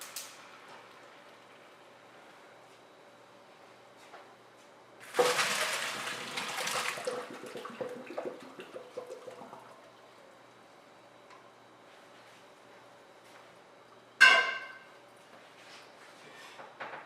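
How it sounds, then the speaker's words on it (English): Cooked squash poured from a pot into a colander to drain in a home kitchen, a splashing gush of water that trickles off over a few seconds, followed later by a sharp metallic clank. "take the squash off the stove and drain it in the colander"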